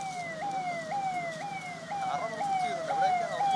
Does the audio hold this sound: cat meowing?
no